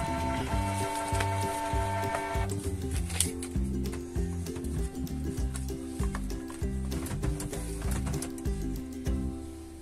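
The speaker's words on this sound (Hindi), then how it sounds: "चेक करेंगे ये प्रिंटिंग कैसी आती है।" A Canon PIXMA G-2000 inkjet printer with a faded-print fault runs a page, its carriage clattering back and forth in a steady rhythmic mechanical pattern with whirring feed motors, close and continuous.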